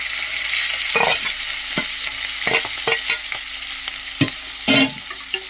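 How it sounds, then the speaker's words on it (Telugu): Green chillies and onions fry in a pan, with a steady sizzle and repeated scraping thumps of a spatula stirring, close and clear with no talking. "కొద్దిగా పచ్చిమిర్చి, ఆనియన్స్ వేసుకుందాం."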